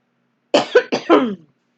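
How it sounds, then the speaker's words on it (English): A single close, dry cough bursts out in a quick series of three or four hacking pulses against silence, lasting about a second. "Let me get a cough."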